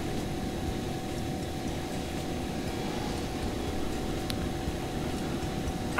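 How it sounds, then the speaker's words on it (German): A steady, droning aircraft engine hum from an airplane arriving at the airport in the video game Airport Simulator 2013, holding an even level throughout with no talk over it. "Da kommt Flugzeug an."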